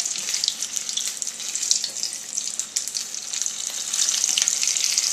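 A bufriedo frying in hot oil gives a steady, close, bright sizzle with crackling bubbles, swelling slightly louder toward the end, no voices over it.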